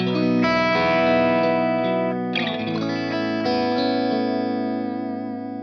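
Sustained distorted electric guitar chords from a Strat single-coil pickup through a Dr. Z amp profile on a Kemper ring out with a touch of reverb, one chord change midway, loud and alone.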